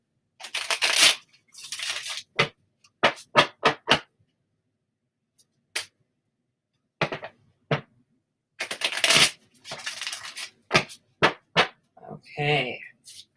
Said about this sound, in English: I will shuffle for you.